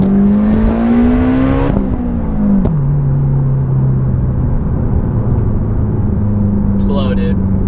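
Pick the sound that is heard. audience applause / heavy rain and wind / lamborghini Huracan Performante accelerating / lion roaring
lamborghini Huracan Performante accelerating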